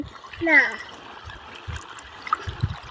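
A child blocks a small flow of water, leaving a faint trickle and a brief splash under nearby talk.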